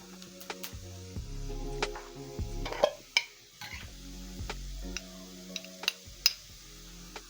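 Garlic, onions and spices including curry powder and cumin cook in a pan on low heat, with a spoon scraping and tapping the pan in irregular strokes over a faint sizzle, quiet and close.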